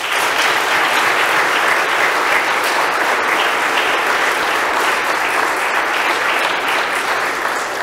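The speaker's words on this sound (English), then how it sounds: "Give them a round of applause." A church congregation applauding during Holy Mass at St. Michael's, a dense, loud, sustained roar of many hands clapping evenly from start to end.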